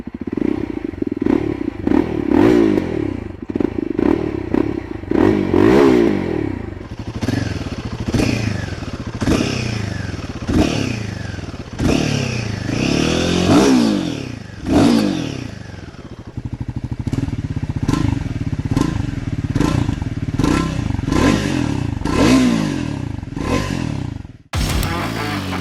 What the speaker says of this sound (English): here is how the three bikes sound like